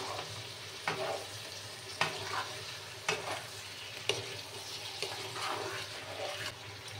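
Ridge gourd pieces salted and frying in a pan, giving a steady close sizzle with periodic stirring scrapes about once a second, no talking.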